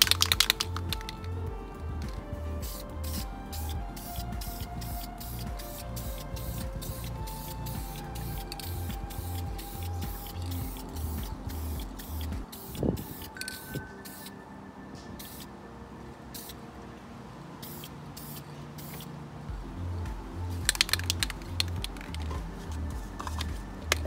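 Short bursts of vinyl spray paint hiss onto a car dashboard in a rapid, irregular series of close sprays, with a quieter pause partway through before the bursts resume.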